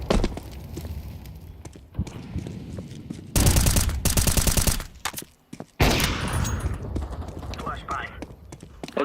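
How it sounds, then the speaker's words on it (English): Gunfire in Counter-Strike 2, with sharp rapid automatic bursts that are loudest in a sustained volley in the middle, plus scattered single shots, under game voice callouts. "They're shooting"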